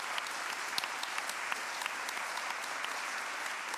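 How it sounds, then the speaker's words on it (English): Steady, sustained audience applause fills a hall at an evening science-communication competition final, a dense wash of many hands clapping at even loudness throughout. "Round of applause for them."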